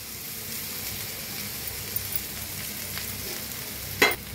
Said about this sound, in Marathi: आता ह्याच्यातच टाकूया बटाटो बारीक करून घेतलेले